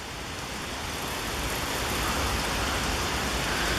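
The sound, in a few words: spring water running off rock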